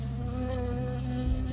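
A bee buzzes steadily and up close in the video game Firewatch, a continuous droning hum with a low mechanical bed beneath, lasting unbroken throughout.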